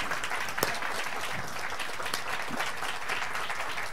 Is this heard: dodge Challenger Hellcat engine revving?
no